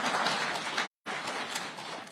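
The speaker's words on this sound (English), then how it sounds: "I thought you would clap." Audience applause after a presidential speech at a press briefing, steady broadband clapping that cuts out briefly and then resumes.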